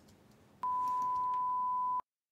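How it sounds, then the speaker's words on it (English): A plain sine wave test tone, one steady pure pitch held for about a second and a half, loud and clean, starting and stopping sharply over faint room noise. "I'm going to start off with a basic sine wave here. I'm just going to play it to you briefly."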